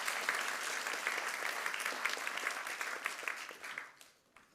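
An event audience claps for Liz Kamei at a waste challenge kick-off, a lively round of applause that holds for a few seconds and then tapers off quickly into near quiet.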